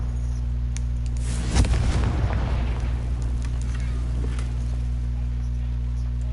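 A single heavy blast from the fiery Confringo spell in the Hogwarts Legacy game booms out and then fades into a rumbling tail over a constant low hum.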